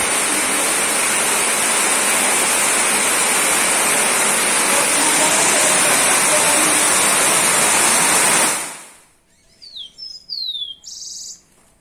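Steady rain falls outdoors in a dense, even hiss for about eight seconds, then stops abruptly, leaving quiet air where a few bird chirps come through.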